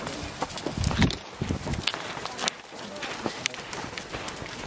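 Horses on a trail ride move at a quick pace, their hooves making close, uneven clip-clop beats alongside soft voice sounds.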